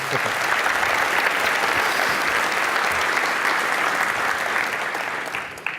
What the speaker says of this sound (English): big round of applause for Scott, please